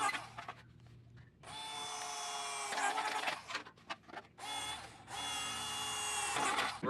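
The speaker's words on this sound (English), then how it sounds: "That's where we're going to drill our holes at." Power drill boring holes through sheet-metal ductwork while building a grow lamp, two long loud whining bursts with short gaps and shorter stops and starts between them, close by, no talk.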